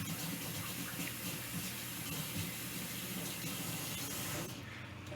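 Steady running water from a kitchen tap, used to wet fingers while shaping dumplings, a continuous hissing splash close by that cuts off near the end.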